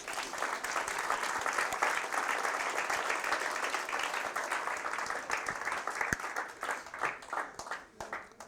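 A church congregation applauds loudly, a dense, sustained wash of many clapping hands that holds steady, then thins into more distinct scattered claps as it fades.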